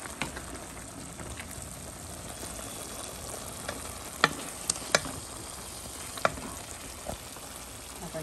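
Shrimp and bean seeds cook in a pan with a steady low sizzle and frying crackle, broken by a few sharp clinks of a utensil against the pan near the middle and end.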